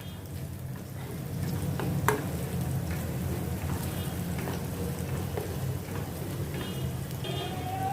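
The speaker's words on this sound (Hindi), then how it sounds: "ये सब मसाले मैं इसमें डालते इसको मिक्स करती हूँ और सौते करती हूँ" Ground spices sauté in a pan for a home-style mixed vegetable sabzi, a steady low sizzle with occasional soft scrapes and clinks of stirring, moderately close and without speech.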